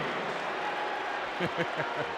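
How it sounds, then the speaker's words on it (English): Arena crowd at the 2003 McDonald's All-American high school basketball game roars and applauds continuously, a broad distant din beneath a commentator talking over it. "Listen to the crowd now."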